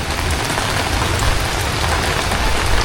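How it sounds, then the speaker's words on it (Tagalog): Steady, dense rainfall pattering on a waiting shed, a continuous broadband hiss with a low rumble underneath, no voices. "Kami naman po ni Kimay nandito po sa waiting shed at umuulan po ulit."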